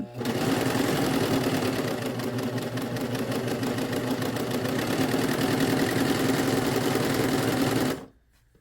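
A Bernette Funlock B48 serger runs continuously at speed while stitching a 3-thread super stretch seam, a loud, close, steady mechanical whir and rapid needle clatter that stops abruptly at the end.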